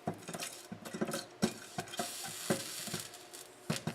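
Urad dal and chana dal sautéing in oil in a kadai, with a quiet sizzle under repeated clinks and scrapes of a stirring spoon against the pan.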